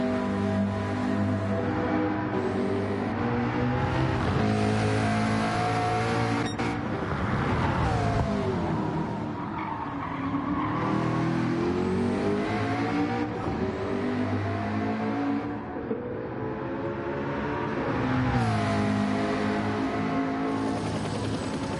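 A race car drives down the back straight of a circuit during a racing event, its engine droning loud and steady with rising and falling revs throughout, one continuous run without pauses.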